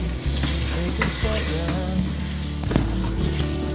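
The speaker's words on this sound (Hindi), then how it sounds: "दही डाल के इसको भून ले" Yogurt-coated chicken fries with masala in a pan for a Lahori murgh cholay dish, giving a dense, continuous loud sizzle and bubbling with occasional stirring scrapes and no voices.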